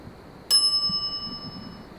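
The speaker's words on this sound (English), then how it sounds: "Ring bell for service." A service bell in the point-and-click adventure game The Secret of Monkey Island rings once with a bright, sharp ding that rings out and fades over about a second, heard alone and close.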